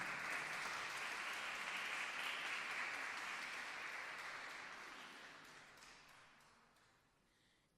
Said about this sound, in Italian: Accogliamolo con un applauso